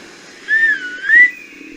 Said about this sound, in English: She gave a low whistle,